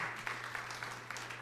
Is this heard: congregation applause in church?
yes